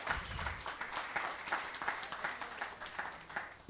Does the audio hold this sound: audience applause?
yes